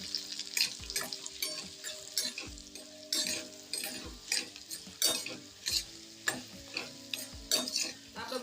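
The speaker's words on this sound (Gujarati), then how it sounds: "હવે બધો મસાલો આપણે સરસ રીતના મિક્સ કરી લઈશું" Repeated scraping and clinking of a spoon stirring a spice mixture for yogurt-stuffed chillies in a pan, with a steady sizzle of frying underneath; close and fairly loud, no voices.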